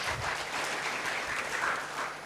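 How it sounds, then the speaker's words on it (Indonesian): Lively applause from a congregation at an online worship service, a continuous crowd of clapping hands held at an even, moderate level throughout. "Berikan tepuk tangan meriah buat Tuhan kita"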